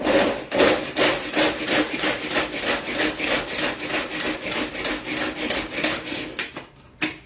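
Repeated rhythmic whirring rasps from a hand-pulled chopper chopping carrot, each tug giving a quick grinding burst as the blades cut, about two per second, close and alone.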